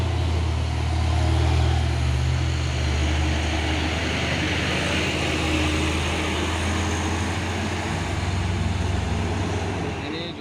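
A heavy truck diesel engine, a Hino 500 or a 285 PS Isuzu Giga tractor in a trailer pulling contest, drones low and steady under light throttle, loud and close, with a constant rumble and no talk.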